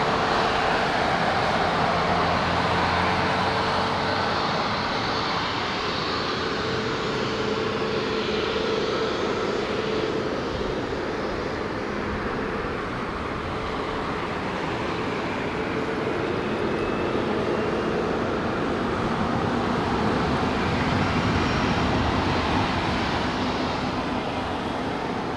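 A United Airlines Boeing 737 MAX 8, registration N17302, lands at Narita airport. Its engines give a steady, loud roar of rushing air that holds for the whole stretch, with a slight swell toward the end.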